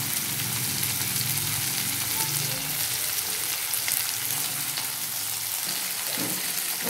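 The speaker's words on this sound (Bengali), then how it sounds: "আমি একটু ভেজে নেবো আলুগুলো লবণ হলুদ দিয়ে" Potatoes sizzle steadily in a hot pan with salt and turmeric, a loud, continuous hiss of frying with no pauses and no talking.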